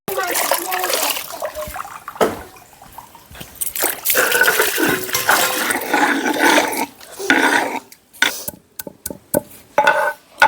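Water is pumped by hand over a stone grinding slab in a village kitchen, running and splashing in gushes. Bursts stop and start and break into short spurts at the end, with a voice talking throughout.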